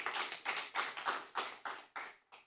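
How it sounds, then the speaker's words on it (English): Applause from a school debate audience, heard as a thin scattering of claps in short bursts, about eight or nine separate swells that fade toward the end, fairly close and with no voices over them. "Please, a round of applause for our team."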